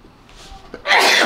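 A single close, sharp sneeze that bursts out loudly after a quiet breathy lead-in.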